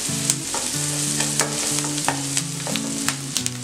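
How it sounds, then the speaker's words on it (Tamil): Onions frying in a pan for a Tamil masala bread scramble, with a steady close sizzle and a spatula scraping and stirring in quick repeated strokes. "இது வெங்காயம் போட்டு நல்லா சாஃப்டா வதங்குற வரைக்கும் நம்ம வதக்கி விட்டுடலாம்."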